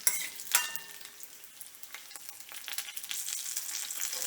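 Garlic sizzling and frying in a pan as a curry is started, a steady close crackle with a couple of sharper stir clatters near the start, no talking.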